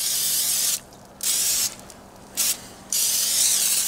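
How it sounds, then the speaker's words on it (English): Several bursts of olive oil cooking spray hiss in short separated squirts, close and loud, with brief quiet gaps between them. "I just got some olive oil cooking spray. I'm just going to spray a little on top."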